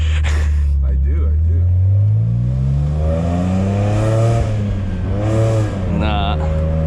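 A BMW 335i with the N54 engine revs hard while accelerating: the engine note climbs steadily in pitch through the gears, dips at the shifts and pulls up again, loud and close.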